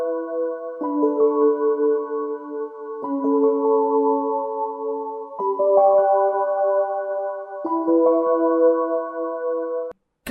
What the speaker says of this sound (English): why does Rebecca's theme sound like this